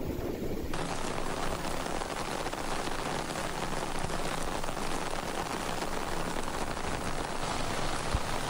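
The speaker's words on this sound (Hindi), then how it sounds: "इस्लामाबाद, रावलपिंडी और लाहौर समेत कई शहरों में बारिश।" Steady, heavy rain falls during a downpour in a Pakistani city, with a dense, continuous hiss of drops hitting surfaces that stays even throughout and has no voices.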